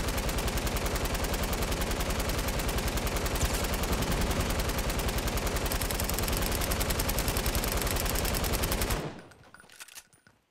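Rapid, sustained automatic gunfire from the video game Fortnite on Nintendo Switch, loud and unbroken for about nine seconds before cutting off abruptly into near silence with a few faint trailing sounds.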